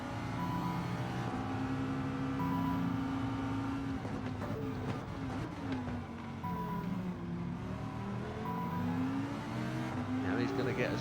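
Racing car engine in Gran Turismo 7 on PS5, accelerating hard with rising revs and the whine of other cars close around it, while someone talks over it throughout.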